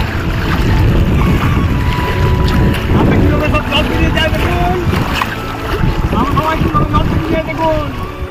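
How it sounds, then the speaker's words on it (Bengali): A strong water current rushes during a river crossing, loud turbulent flow mixed with wind buffeting the microphone, while people talk over it. "প্রচন্ড জল তো বন্ধুরা, আমরা এখন জল পেরিয়ে যাচ্ছি ওই পারে।"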